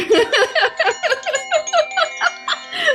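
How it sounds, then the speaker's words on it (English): Chimes ring out in a run of bright, overlapping metallic tones at a quick, even pace, each note shimmering as it decays, heard close and clear. "Let's do the chimes."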